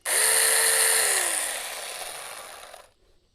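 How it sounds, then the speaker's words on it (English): A battery-powered 4 inch mini chainsaw runs alone at steady high speed, a loud whining motor hum that eases slightly in pitch before cutting off abruptly near the end. "this thing don't sound like it's slowed down any"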